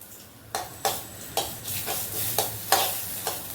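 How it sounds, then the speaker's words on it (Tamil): Spices for a rasam tempering crackle and sizzle in hot oil in a pan, with a string of sharp pops recurring roughly every half second over a steady frying hiss, close and moderately loud. "அழகாக எண்ணெயில் பொரிஞ்சிடும்."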